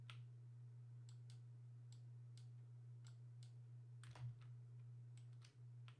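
Clicky computer keyboard typing, heard as a sparse run of crisp individual keystrokes at an irregular pace over a steady low electrical hum, with a slightly heavier clack near the end.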